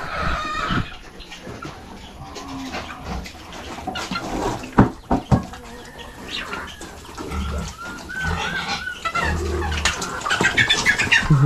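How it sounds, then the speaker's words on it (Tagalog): Chickens clucking around a farm that also keeps pigs, scattered calls and flutters over busy outdoor background noise, with occasional louder bursts. "Yung manok doon."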